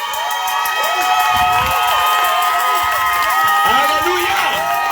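A church congregation at an evening worship service in Grand-Bassam cheers and acclaims, a loud, steady mass of shouting voices with scattered calls rising over a sustained musical drone.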